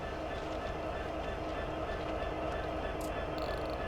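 Steady rumble and rail noise of a train in the Train Sim World 4 video game, a continuous, moderately loud wash of wheels and motor with a few faint clicks near the end.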